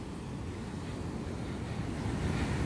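Ocean surf from a typhoon swell rolls in as a continuous low, rumbling wash with wind noise buffeting the microphone, steady and fairly faint throughout, with no talking.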